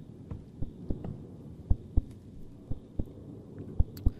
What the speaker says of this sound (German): Und ich spüre meinen Herzschlag.